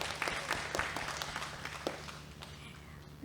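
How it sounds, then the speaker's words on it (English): An audience in a meeting or discussion session claps, with scattered hand claps spread across the first couple of seconds and then tapering into a faint room murmur. "Yeah, we can clap."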